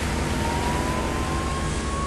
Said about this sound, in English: A fireboat rushes to put out a fire.